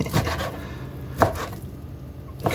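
A knife chops through raw beef for Manhattan filet steaks on a cutting board, giving three separate thuds spaced about a second apart, close and fairly distinct.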